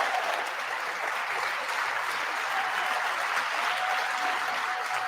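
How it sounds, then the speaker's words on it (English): Steady applause from an audience at a State of the Union address, continuous and moderately loud from start to finish with no voices over it. "Now they're clapping at Pat."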